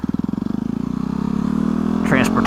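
A turbocharged Yamaha WR250R motorcycle engine idles with a rapid, uneven sputtering pulse close by, then revs up slightly as a voice speaks over it at the end.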